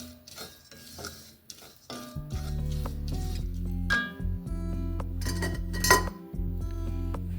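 Sunflower seeds dry-roasted in a pan, stirred with a metal spoon that scrapes and clinks against the pan in irregular strokes, with a faint sizzle underneath, close and fairly loud.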